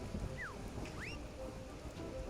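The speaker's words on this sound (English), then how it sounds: "and now it rains." Rain falls in the Yooka-Laylee video game as a steady, dense hiss. A couple of short gliding chirp tones sound briefly over it.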